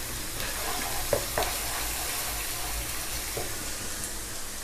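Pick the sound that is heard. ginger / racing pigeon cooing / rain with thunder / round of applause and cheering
ginger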